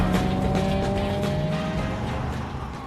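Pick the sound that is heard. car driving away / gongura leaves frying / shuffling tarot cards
car driving away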